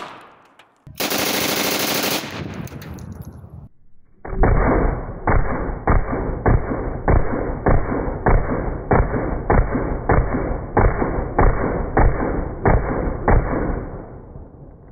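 A burst of 7.62x25 pistol rounds fired into level 3 soft body armor on an outdoor range: a short roaring blast, then about a dozen loud, evenly spaced sharp reports in quick rhythm, with no talk.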